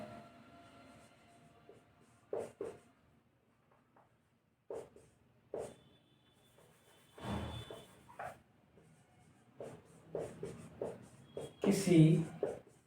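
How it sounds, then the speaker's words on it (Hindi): Pen or marker strokes scratch across a board or page while a matrix transpose is written out during a maths lesson, short irregular bursts of writing separated by quiet pauses, fairly faint and close. "मैं इसको थोड़ा सा लिखता हूं"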